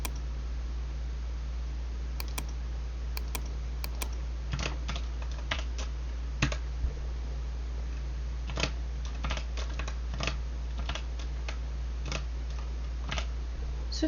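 Quiet typing on a computer keyboard, with irregular clusters of light key clicks spread over several seconds, close by over a steady low hum.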